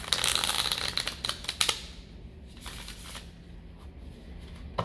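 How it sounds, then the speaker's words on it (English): A deck of playing cards gets shuffled up close: a crisp, fluttering riffle burst that fades into softer card handling, with no voices. "I will do another shuffle"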